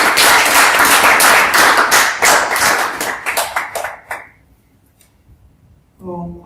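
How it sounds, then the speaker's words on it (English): An audience at a paper review talk gives dense applause that holds steady and then thins into a few scattered claps before stopping, with a brief voice right at the end. "please applause for Michael as well"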